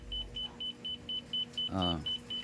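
A GEM 3D scanner gives a short steady electronic beep that repeats about every quarter second in an even rhythm, with a brief burst of low sound partway through.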